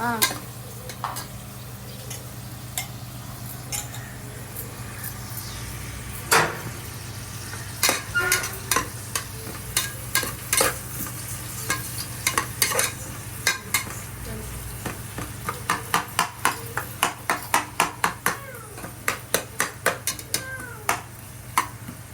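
Spring-cut onions sautéing in a pan for Tamil Nadu-style chicken dum biryani, a continuous close sizzle broken by stirring scrapes that grow into a fast run of rhythmic spoon clacks against the pan.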